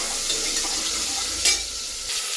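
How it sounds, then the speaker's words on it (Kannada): Sprouted field beans (avarekalu) fry in a pan with a constant loud sizzle and a quick stirring scrape. "ಇದನ್ನು ಚೆನ್ನಾಗಿ ಫ್ರೈ ಮಾಡ್ಕೊಳ್ಳಿ"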